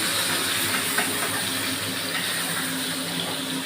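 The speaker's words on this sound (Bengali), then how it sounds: "এই কই মাছগুলোকে আমি সুন্দর করে ভেজে নিচ্ছি।" Koi fish (climbing perch) frying in hot oil, a steady broadband sizzle and hiss that runs without a break from start to finish, close and fairly loud, with no talking.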